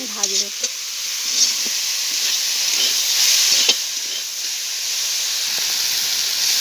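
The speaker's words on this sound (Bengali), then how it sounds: "দিয়ে এবার আমি ভালো করে নেড়ে এটা আমি ভাজবো।" Chopped banana flower with turmeric and salt fries in a pan, producing a steady close hiss of steam and sizzle with occasional scraping stirs and a brief knock at the start.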